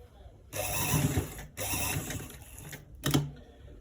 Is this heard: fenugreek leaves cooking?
no